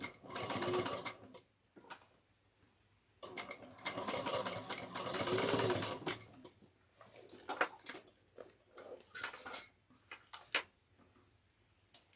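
A sewing machine back stitching on a backpack runs in several short bursts, a rapid close mechanical whirr with pauses and small clicks between the runs.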